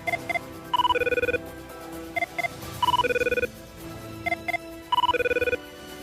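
A telephone rings with a repeating electronic melody, three loud close bursts of chirping tones separated by short pauses, with no talk.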